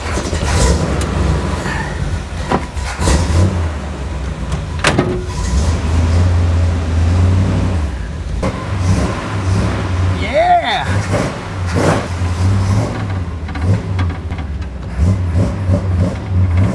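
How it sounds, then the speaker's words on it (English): A classic Corvette drives down the road, its engine a steady low rumble with occasional revving, heard from inside the car with someone talking over it. "Surprisingly, this car goes pretty straight down the road."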